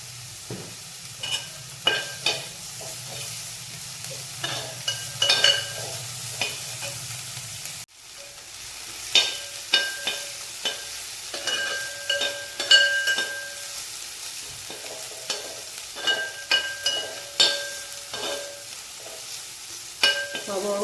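Small shallots sautéing with salt in a pan for a chickpea masala, steady close sizzle with repeated scraping stirs and clinks of a spoon throughout, no talk.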